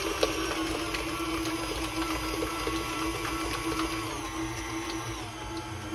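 A stand mixer fitted with a paddle churns sweet potatoes for pie filling, giving a steady mechanical whir with a faint, even rattle throughout.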